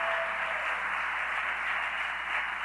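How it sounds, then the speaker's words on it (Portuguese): Steady applause from a church congregation at a Baptist anniversary service, a dense even wash of clapping that holds at the same level throughout without any voices on top. "Vamos dar uma forte salva de palmas ao Senhor"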